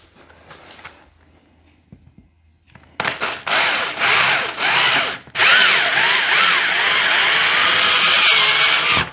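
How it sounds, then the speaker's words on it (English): After a quiet start, a power drill whines in short bursts, then bores continuously into a hard wall surface for shelf mounting holes, loud and close. "Let's start drilling."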